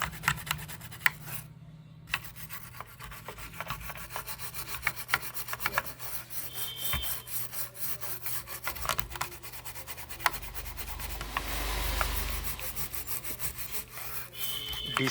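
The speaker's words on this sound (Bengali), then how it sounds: "খুব ভালোভাবে ঘষে নিতে হবে।" A computer motherboard damaged by rats is scrubbed clean with thinner, giving close, faint, irregular rubbing and scraping strokes that continue throughout with no talk.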